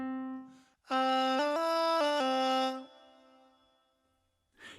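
A voice sings a short phrase through the microphone input of a KORG Pa5X arranger keyboard with auto pitch set to robotic correction, its notes snapping between flat, stepped pitches. Quiet gaps come before and after.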